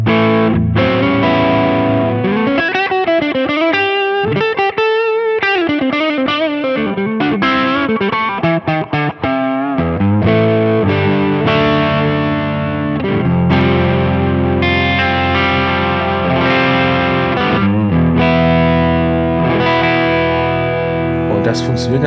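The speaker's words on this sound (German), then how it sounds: "Ich schalte jetzt hier mal einen Tube Screamer dazwischen." A hollowbody electric guitar runs through a Tube Screamer pedal for light, subtle overdrive, playing loud sustained chords and quick picked runs continuously for over twenty seconds.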